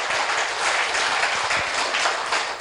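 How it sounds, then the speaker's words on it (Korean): An audience at a business seminar breaks into dense, loud applause that fills the whole stretch, with no talking. "여기까지 이해되신 분들 박수 한번 쳐볼게요"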